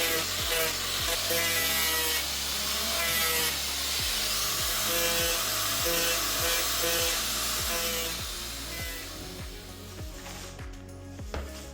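A power grinder bevels the cut edges of a plastic 120-litre underslung water tank for a Ford Transit, a steady loud whine running throughout with repeated short bursts as the tool passes along the edge, fading slightly near the end.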